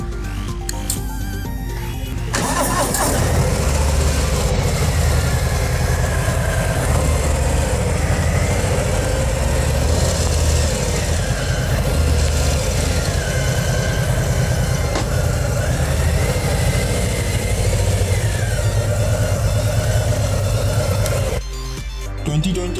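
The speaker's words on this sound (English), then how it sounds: "So first of all, we have to feel the sound. So let's start the bike." A 2020 Harley-Davidson Low Rider S cruiser motorcycle starts and settles into a loud, deep, rumbling idle close by that holds steady for about twenty seconds, with occasional rises in engine pitch.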